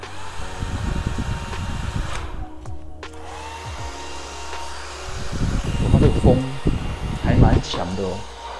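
A handheld rechargeable mosquito vacuum trap blows air with a steady whirring fan hum, heard close, while a person talks over it and handles the device, with a brief pause in the middle.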